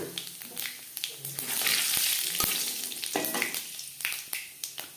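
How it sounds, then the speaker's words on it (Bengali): Panch phoron five-spice seeds sizzle and crackle in hot oil in a kadai, with bright spattering and scattered sharp pops and stirring clicks close by, no voices. "পাঁচফোড়ন ভেজে নেওয়ার পর"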